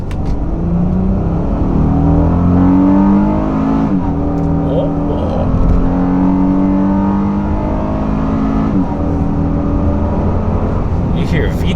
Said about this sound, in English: You hear VTEC, that's really good.